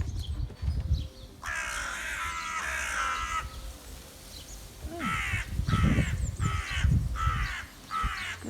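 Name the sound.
birds calling around a garden, crow cawing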